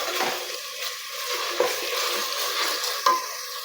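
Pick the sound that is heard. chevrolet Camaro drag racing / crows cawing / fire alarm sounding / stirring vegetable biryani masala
stirring vegetable biryani masala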